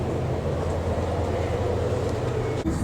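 TransPennine Express train pulling away, a steady low rumbling drone of engine and wheels on track heard from on board, continuous and even with a brief dip near the end.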